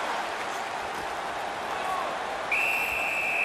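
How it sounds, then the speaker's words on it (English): Referee whistle from an NHL 15 hockey video game, a steady high tone that begins partway through and holds to the end above a constant arena crowd bed with game commentary. "Puck covered, whistle blown."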